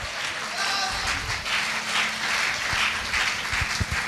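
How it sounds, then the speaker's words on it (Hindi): Audience clapping for a guest named Mr. Shrikant at a Safe Shop speech event, a steady dense patter over a faint background hum with a few sharper claps standing out. "एक जोरदार ताली हो जावे"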